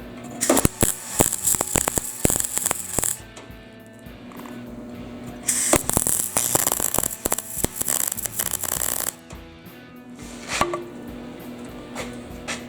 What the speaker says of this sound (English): Now I'll just go around and weld it.